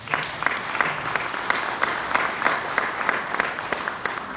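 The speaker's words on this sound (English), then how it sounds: "I want to give him a round of applause again" A high school audience applauds a student's speech with sustained, even clapping at moderate volume, a steady patter of many hands with occasional sharper claps standing out.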